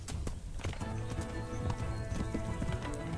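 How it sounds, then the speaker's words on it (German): Rapid rhythmic clip-clop of horse hooves at a gallop, with a brief whinny, close and steady in the Kingdom Come: Deliverance game soundscape. "Schnell im Galopp, da kann uns niemand folgen."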